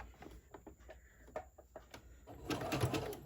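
A sewing machine stitches along the side of a fabric pouch in short, faint, stop-start bursts, then breaks into a louder, steadier run near the end.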